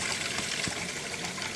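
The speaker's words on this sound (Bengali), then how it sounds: "এবারে আমি একটু জল দিয়ে দেবো" A little water is poured into frying cauliflower curry, making a short, steady splashing hiss that lasts just over a second.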